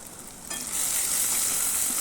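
Turmeric, garam masala and salt sizzling in hot oil with tomatoes, a steady close frying hiss that swells sharply after a quiet start and then holds, with no talking.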